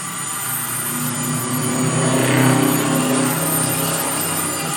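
A car driving past outside, a muffled engine swelling to a peak mid-way and fading again, heard faintly from indoors under steady background hum.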